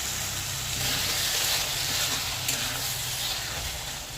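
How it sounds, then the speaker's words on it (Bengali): Poppy seed paste sizzles in a pan while being stirred, a steady close hiss with soft scraping movement throughout. "পোস্তটা দিয়ে দিলাম, একটু নাড়াচাড়া করে নেব।"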